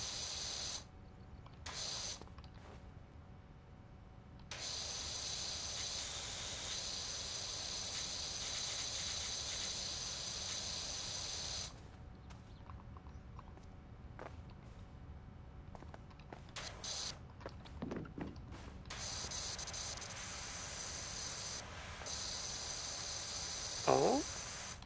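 A pressure washer in a video game sprays fence tops with a steady, continuous hiss that runs for long stretches, broken by brief pauses and short restarts, close and even in level.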